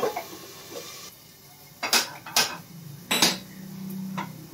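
Metal clatter of stirring in a cooking pot and a lid set on top, with several short sharp clinks and scrapes, fairly close, at a steady moderate level with no talking.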